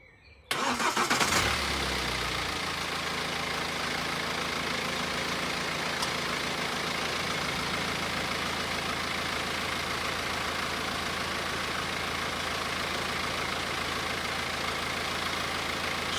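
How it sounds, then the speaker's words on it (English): A car engine cranks briefly and catches, then settles into a steady, even idle that runs on alone for well over ten seconds, close to the microphone. "And then we'll fire the car up"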